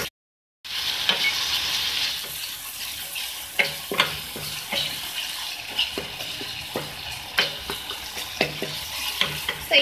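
Ginger and garlic mixture frying and sizzling in a pan while being stirred, a steady close hiss broken by repeated scraping stir strokes, no talking.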